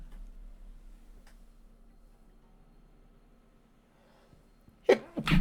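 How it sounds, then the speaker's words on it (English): A single sharp human sneeze bursts out near the end after several seconds of quiet ticking room noise, loud and close. "I gotta sneeze 1 sec."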